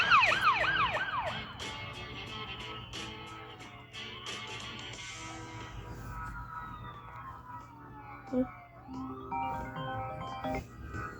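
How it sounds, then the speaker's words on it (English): An ambulance siren wails in rising and falling sweeps, loudest at the start, then fades into a busy mix of other tones and a steady low hum. "Ambulance."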